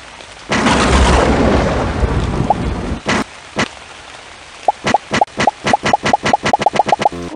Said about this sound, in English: I'm gonna summon a rain cloud.